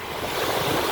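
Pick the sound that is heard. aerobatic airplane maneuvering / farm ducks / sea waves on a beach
sea waves on a beach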